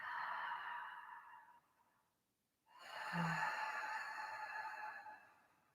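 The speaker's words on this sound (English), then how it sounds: "imagine a like Darth Vader breathing" Loud, audible yoga breathing in the deep Darth Vader style, a long raspy exhale, a brief pause, then another long breath, close and alone.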